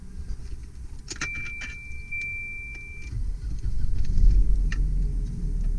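A 1989 Volvo 240 GL with 70,000 miles: keys jingle, a steady electronic chime sounds for a couple of seconds, then the engine turns over and settles into a low, rumbling idle close by.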